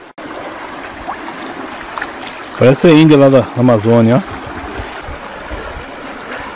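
Strong river rapids rush steadily through a forest campsite on a river, a continuous broadband wash of water that persists under a burst of nearby talk in the middle.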